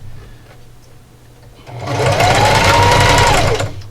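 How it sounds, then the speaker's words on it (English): A sewing machine runs a straight stitch at 2.5 length, back stitching at the start of a scrappy strip heart quilt block; a quiet hum builds into a loud, steady whirring run lasting a couple of seconds. "I'm going to back stitch in the beginning."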